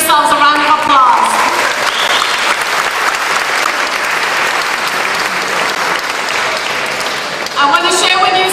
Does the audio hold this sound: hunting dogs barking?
no